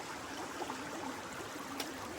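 Small mountain river on the GR20 trail in Corsica, a steady broadband rush of flowing water close by, even and continuous with no voices.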